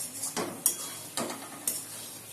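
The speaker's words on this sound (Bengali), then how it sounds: "10 মিনিট পর আমি ঢাকাটা তুলে নিয়ে গাজরটাকে আবার একটু ভালো করে নেড়ে দিলাম।" Carrots for carrot halwa being stirred in a pan, with a few soft scraping strokes and light clinks of a spoon against the metal over a faint sizzle, close and quiet.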